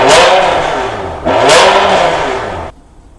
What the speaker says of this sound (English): if I give it a good rev